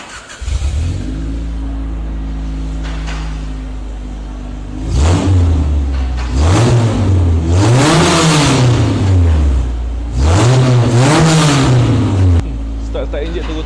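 A car engine idles with a deep steady rumble through a newly fitted centre exhaust, then revs up in several loud surges that rise and fall, heard close, settling back to idle.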